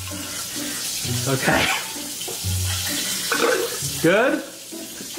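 Tap water runs and splashes in a video game, a steady hiss and trickle that continues under short bits of talk, with brief clunks and gurgles in between.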